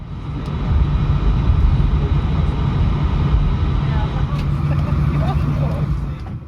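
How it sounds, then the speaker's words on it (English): A low, steady engine rumble inside an EasyJet Airbus A319-100 taxiing to the gate at Paris CDG, a constant drone heard from the cabin with a voice talking over it. "we're now taxiing over to our gate on the airport's Terminal 2B"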